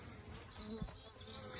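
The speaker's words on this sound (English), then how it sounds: "pretty nasty bees, but they'll do for an out apiary and the grumpy apiary" Honey bees buzz at an out apiary, a restless, agitated colony droning close by in a continuous hum with small swells, faint and with no talking.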